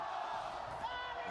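A large arena crowd roars steadily and loudly at the VALORANT Masters Santiago esports event, one continuous wash of cheering with no pauses.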